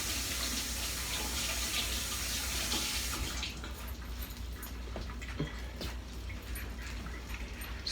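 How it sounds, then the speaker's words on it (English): Tap water runs into a kitchen sink as hands are washed during meatloaf preparation, a steady close rush that turns softer and more splashy partway through, with scattered small clinks and drips. "Wash my hands a little bit."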